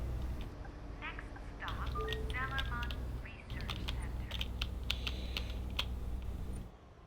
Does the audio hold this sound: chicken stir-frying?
no